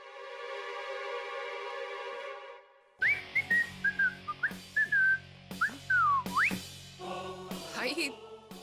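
Someone whistles a lively, wavering tune in short bursts, with a steady tonal hum before it and some background noise throughout.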